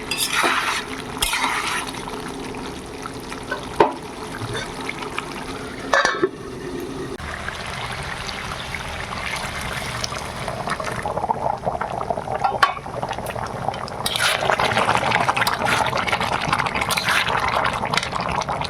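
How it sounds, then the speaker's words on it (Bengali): Boiling hot water is poured into a pot of cooking mutton and broiler chicken, giving a steady bubbling, sizzling wash that swells louder toward the end, with a few sharp knocks along the way and no talk. "ফুটন্ত গরম জল দিয়ে দিতে কেমন হচ্ছে"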